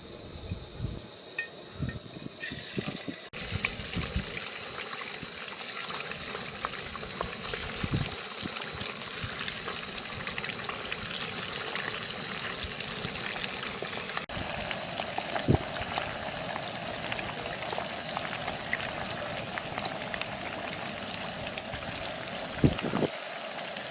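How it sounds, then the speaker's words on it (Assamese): Chunks of meat deep-frying in a pan of hot oil at an outdoor cooking spot, with a steady, dense bubbling and crackling that runs without a break and with no talking. "এতিয়া মাংসখিনি বঢ়িয়াকৈ ইয়াতে ডুবি ডুবি ভাজিম"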